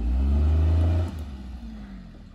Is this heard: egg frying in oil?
no